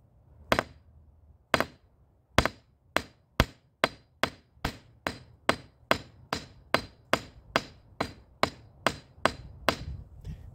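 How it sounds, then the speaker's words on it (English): A hammer repeatedly smashes a sticker containing hexamine diperchlorate outdoors: about twenty sharp, loud metallic strikes, spaced widely at first and then coming in a quicker steady rhythm, with no blast between them. "let's take it outside and see if we can't get this thing to go off with a hammer"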